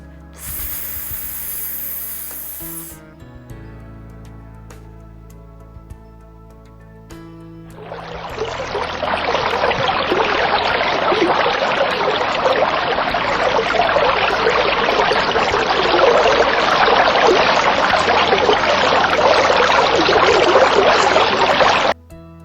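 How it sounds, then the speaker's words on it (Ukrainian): Water flows as a stream in a steady, full rushing wash that starts abruptly after a few seconds of quiet tonal background and continues loudly and evenly to the end. "Повторимо, як тече струмок."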